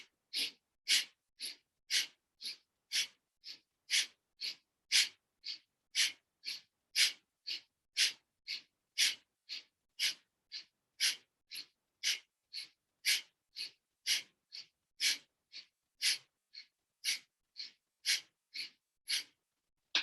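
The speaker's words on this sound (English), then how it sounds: "it's a short inhale through your nose, short exhale" Pranayama breathing practice: a long, even series of about thirty short, sharp nasal breaths, clear and close, alternating inhales and exhales in a brisk steady rhythm with no talking.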